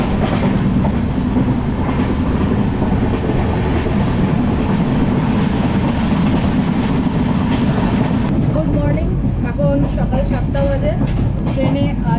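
A passenger train on the long Kolkata to Kashmir run rumbles steadily, with continuous loud wheel and carriage noise and some clatter. Faint voices can be heard beneath it.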